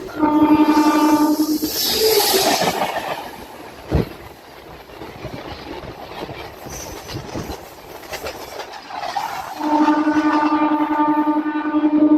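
A MEMU train runs on the Kakinada to Visakhapatnam line near Visakhapatnam: a loud, close rolling rumble and rattle with a sustained tonal whine at the start and end and a sharp clank midway, with no voices.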